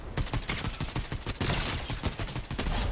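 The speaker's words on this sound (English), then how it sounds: "I hear shooting somewhere" Rapid bursts of automatic gunfire crackle in a Fortnite match, dense repeated shots in quick rhythmic volleys, fairly close and loud for nearly three seconds.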